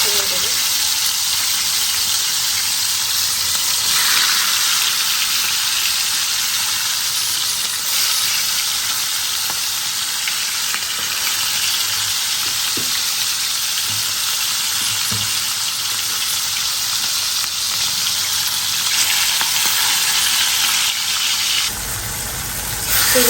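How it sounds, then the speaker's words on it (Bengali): Garlic and spices sauté in a hot pan, giving a loud, steady sizzle that runs unbroken and close throughout. "এবার একটু রসুন মশলা কষাইতেছি"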